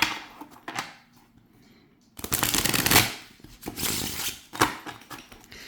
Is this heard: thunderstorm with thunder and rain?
no